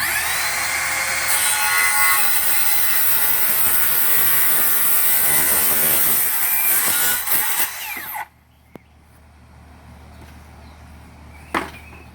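Circular saw slicing through a pressure treated 4x4 post, a loud close motor whine and rough cut lasting about eight seconds, then the blade winding down into quiet with a couple of small knocks.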